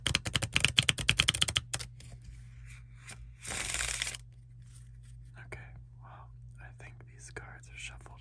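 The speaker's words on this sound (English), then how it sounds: "Cards are shuffled enough." A deck of cards is shuffled near the microphone in quiet ASMR style, a fast run of crisp riffling flicks followed by a longer soft bridging rustle, then scattered small handling sounds, with faint whispering.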